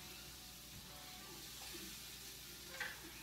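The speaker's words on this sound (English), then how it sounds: "and a nice sizzle there." Chopped onion and garlic sizzle in a hot pan, a soft continuous frying hiss with faint stirring and a small clink near the end, quiet and steady with no talk.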